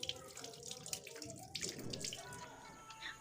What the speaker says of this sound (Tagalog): banlawan ng malinis ulit na tubig